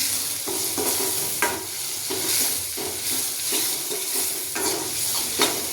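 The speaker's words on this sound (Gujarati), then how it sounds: "તેને મિક્સ કરી દઈશું" Potato bhaji seasoned with turmeric and salt is stirred in a hot pan, a spoon scraping in repeated strokes over a steady close sizzle of frying.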